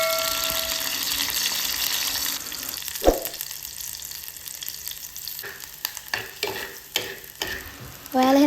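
Lentils (dhal) frying in oil in a home kitchen pan, with a steady close sizzle throughout and intermittent scraping, clacking strokes of stirring, louder toward the end.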